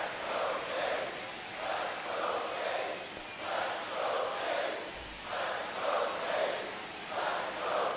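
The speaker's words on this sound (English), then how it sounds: "Crowd on their feet here in Toronto." Stadium crowd in Toronto cheering in MLB The Show 25 during a Cleveland Guardians vs Toronto Blue Jays game with the bases loaded, a continuous roar swelling and falling in rhythmic waves.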